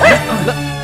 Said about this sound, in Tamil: நாய் தான் ராஸ்கல்